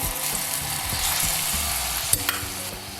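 A seasoning blend sautés in a pan of hot oil left from frying snapper for Jamaican brown stew fish, giving a steady, close sizzle with a couple of sharp clicks near the end.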